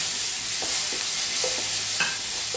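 Onion and tomato frying in a pan for garlic rice make a soft continuous sizzle, with a few close spoon scrapes and taps as they are stirred, no voices.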